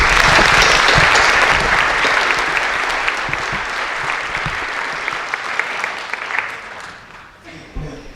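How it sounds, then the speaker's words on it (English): Loud, sustained audience applause filling a room at a Q&A in an art museum, dense clapping that fades out near the end. "Can we give them some applause, please?"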